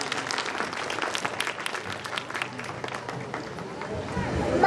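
An audience claps loudly and continuously to welcome a child onto the stage, a dense patter of many hands that swells toward the end, with crowd murmur mixed in.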